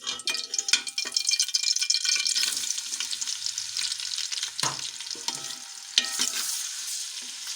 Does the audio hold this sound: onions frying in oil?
yes